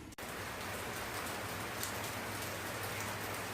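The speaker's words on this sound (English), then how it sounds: "It's raining." Steady rain falling during Hurricane Irma, a dense continuous hiss at an even level throughout, with no voices.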